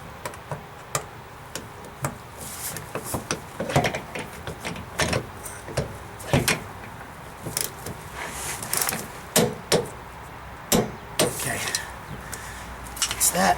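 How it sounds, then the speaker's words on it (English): A torque wrench tightens a fuel sump extension to 22 foot-pounds on a 2nd Gen Dodge Ram Cummins 6BT 12V diesel, giving a string of sharp, irregular metallic clicks and ticks, close and moderately loud. "so I'm just gonna torque this. This extension right here. The spec on this is 22 foot-pounds."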